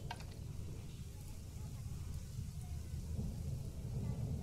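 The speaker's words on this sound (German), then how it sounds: "Wäre es natürlich schön, wenn der Regen mal aufhören würde." Video game rain falls in a jungle setting, a faint, steady hiss over a low rumble that continues evenly without breaks.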